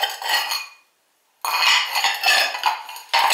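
Stoneware pottery bowls clink and scrape loudly as they are stacked together, two bursts of ceramic rattling separated by a brief silence, with a third clatter starting at the end.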